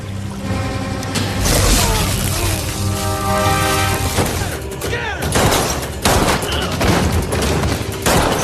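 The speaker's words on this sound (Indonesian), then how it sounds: "Di sana kaki Ray terkena tembakan" Rapid bursts of gunfire crackle in a dense, loud shootout, with sharp volleys punctuating a busy film soundtrack.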